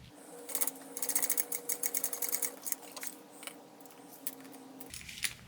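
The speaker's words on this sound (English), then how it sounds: "Now we're going to sew this with a 3/8 inch seam allowance." A sewing machine stitching a 3/8 inch seam on a medium school backpack, quick bursts of close, rapid mechanical clatter that start and stop before settling into a quieter hum.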